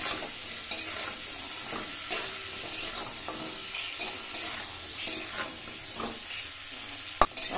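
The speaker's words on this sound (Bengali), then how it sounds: "টমেটোটা দিয়ে এবার একটুখানি ভাজা ভাজা করতে, মানে কষাতে।" Tomato, beans, potato and drumsticks fry in a pan after a black cumin tempering, a continuous close sizzle with frequent soft stirring scrapes and one sharp utensil knock near the end.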